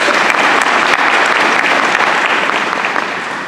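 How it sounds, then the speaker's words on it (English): Room full of people at a service club luncheon gives a sustained round of applause, dense close clapping that holds steady then begins to taper off toward the end. "So let's have a round of applause for Jeff for doing such a great job."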